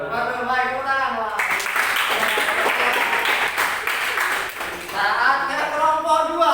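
A classroom of students breaks into clapping, a burst of applause that swells and continues, with voices calling out over it and a teacher talking before it starts.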